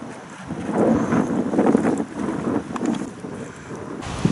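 Strong wind roars across an open boat travelling on the White Sea in the taiga, gusting and buffeting the microphone in uneven waves, with water noise underneath and no talking.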